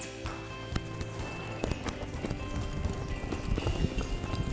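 Hooves of a Crioulo horse clip-clop in a quick, steady running rhythm at close range during cattle-roping training, with faint background noise and no talk.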